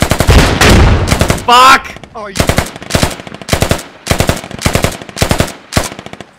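Automatic gunfire in the military shooter game Squad, loud rapid bursts repeating in a steady rhythm of roughly a second each, with a shouted voice near the start.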